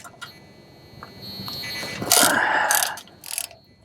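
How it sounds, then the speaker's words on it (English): A half-inch ratchet loosens spindle nuts on a 1988 Ford Bronco, giving a few close metallic clicks and bursts of rasping ratcheting, with a faint ringing tone underneath. "we got a little larger tool here, half inch, and we're just going to loosen these up one at a time"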